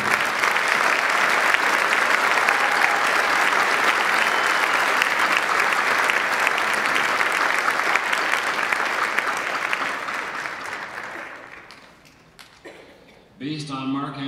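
A concert audience at a spring brass band performance applauds to welcome the band director, loud sustained clapping that fades out near the end before a voice begins speaking.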